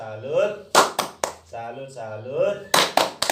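Clapping in salute from an audience of women at a training session, a few sharp rhythmic claps in two short bursts alternating with a voice talking between them.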